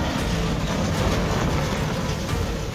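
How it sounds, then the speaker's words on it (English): A cargo ship striking a pier: a sustained, loud, dense low rumble and grinding roar that runs steadily throughout, with no talk. "Have you ever heard a cargo ship crash into a pier?"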